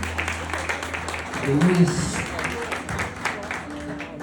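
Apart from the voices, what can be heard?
church congregation applauding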